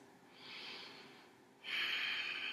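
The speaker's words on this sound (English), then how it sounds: "take a deep breath" A slow deep breath in and out, close and soft, a long airy inhale followed by a stronger, louder exhale with no talking.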